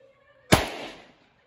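One loud, abrupt blast from a 2-inch Taurus RT 605 revolver firing .357 Magnum over a chronograph, close by, with a short reverberant tail fading within half a second; a faint hum before it.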